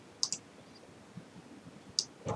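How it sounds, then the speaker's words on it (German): Several sharp computer mouse clicks, a close pair near the start and another pair later, quiet and isolated with faint room noise between them. "Klicke auf OK."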